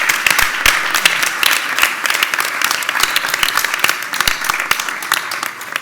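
An audience at a women's sports forum applauds loudly, crisp individual claps standing out from a dense, sustained round of clapping that carries on throughout with a slight rise and fall.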